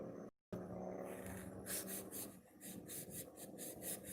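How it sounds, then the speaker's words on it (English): Sandpaper rubbed hard on a surface during budget hot rod work, loud steady scraping that turns into rhythmic back-and-forth strokes, close to the microphone, after a brief dropout near the start. "I was getting sandpaper, just rubbing on it real hard here"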